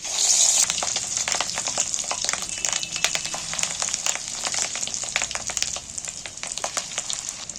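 Small pieces of fish roe fry in hot oil, giving a loud, dense crackling sizzle with rapid popping spatters that carries on without pause, close up and with nobody speaking.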